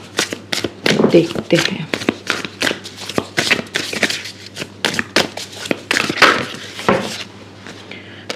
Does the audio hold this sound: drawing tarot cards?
yes